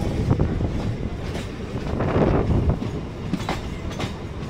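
A crowded Hasnabad local train on the Sealdah suburban line runs along, its rumble and rail clatter loud and continuous from close on board.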